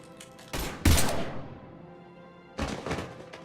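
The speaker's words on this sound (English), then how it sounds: "Now open fire!" Gunfire in the video game Mass Effect 3: two heavy bursts of shots, one near the start and a second after a long decaying lull, with soft game ambience between them.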